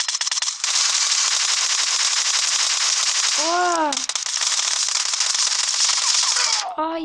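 Sustained rapid automatic gunfire in the battle-royale video game PUBG, loud and nearly continuous with a brief pause and a short rising electronic tone in between, no talk.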